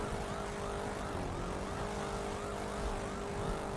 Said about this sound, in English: I hear more sirens though